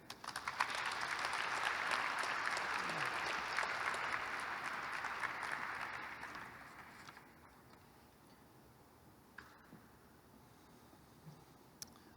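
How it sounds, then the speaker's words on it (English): Applause fills a hall at the 2021 University at Buffalo athletics graduation celebration, strong at first and then thinning out to scattered claps and quiet. "let's give another round of applause for our 2021 student-athlete graduates."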